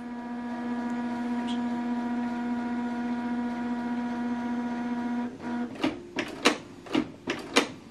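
A Canon TR4650 inkjet printer preparing to print gives a steady tonal motor hum for several seconds, then a series of sharp mechanical clunks and whirs, close and clear.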